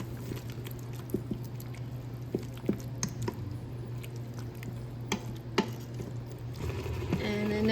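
Spices being stirred into a pot of vegan Southern cooking, with soft wet squishing and scattered light clicks of the spoon over a steady hum, ending in a brief louder scrape.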